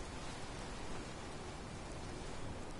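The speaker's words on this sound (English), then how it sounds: "And it's raining." Rain falls in Fallout 4's Far Harbor, a dense, steady hiss of downpour at constant loudness with no talk over it.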